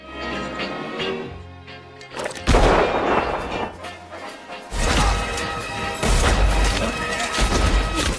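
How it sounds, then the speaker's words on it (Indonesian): Repeated gunshots ring out during shooting-accuracy practice in a Western cowboy film, loud sharp cracks with echoing tails over a steady background score. "Django selalu menyempatkan diri untuk melatih akurasi tembakannya"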